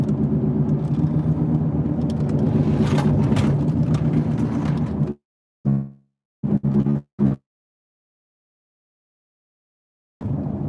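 A used car with worn wheel bearings on a test drive, its engine and road rumble steady for about five seconds, then cutting to short bursts and silence before returning at the end.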